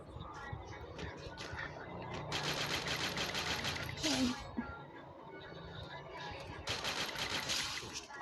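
Automatic gunfire in the Free Fire battle royale game, bursts of rapid rattling shots at moderate distance with a brief pause between volleys, under faint game ambience.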